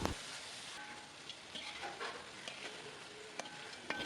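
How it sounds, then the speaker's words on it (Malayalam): Cubed capsicum and onion sauté with chicken in a pan for chicken pulao, giving a soft, steady sizzle with faint scraping stirs over a few seconds. "ഇത്രയും സാധനം ചേർത്ത് കൊടുത്ത് ഒരു 2 മിനിറ്റ് ഒന്ന് സോട്ട് ചെയ്യാം."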